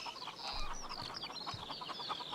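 Chickens cluck softly around a coop in the farming video game Pure Farming 2018, with a faint, steady stream of small overlapping clucks and chirps and no voices.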